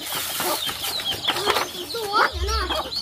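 Chickens clucking and squawking close by on a farm, a busy run of sharp cackles and rising calls with a brief flutter, over background chatter and a low hum near the end.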